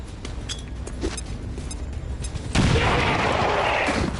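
A grenade blast in XCOM 2, where scattered clicks and small gunfire-like cracks give way to a sudden loud explosion whose rumbling roar fills the rest.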